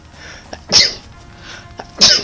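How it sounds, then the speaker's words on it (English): A person sneezes twice at close range, two sharp bursts about a second apart, each preceded by a short intake of breath. "I sneezed like 6 times in a row."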